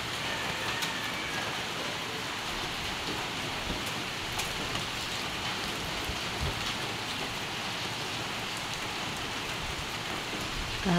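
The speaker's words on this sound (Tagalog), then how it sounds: "So, ngayon maulan." Steady, dense rain from a typhoon falls continuously, a constant hiss of drops pattering on surfaces with no voices.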